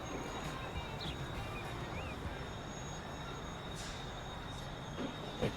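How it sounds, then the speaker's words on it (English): A train pulls into a vanilla modern station in the Transport Fever 2 video game, giving a steady, continuous rail rumble with faint metallic squeals and no speech. "here we got another train coming in"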